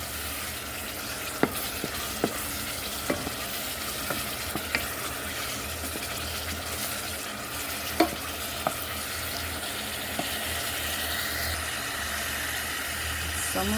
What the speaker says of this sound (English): That's why I give it a gentle stir.